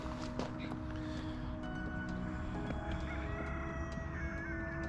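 Ducks call at a bird farm, a busy outdoor din of honking fowl and overlapping calls with scattered sharp clicks, steady and close throughout.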